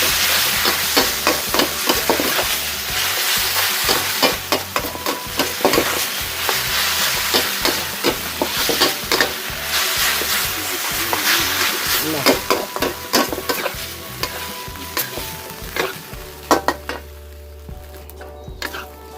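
Glass noodles with minced pork, sugar and holy basil are tossed and stir-fried in a pan, giving a dense, continuous sizzle with rapid scraping and clattering strokes throughout, fading to a quieter hiss at the end.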